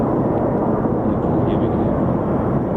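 A US Air Force F-15 or F-35 fighter jet lands at RAF Lakenheath, its broad engine roar steady and loud throughout the clip, with no distinct speech.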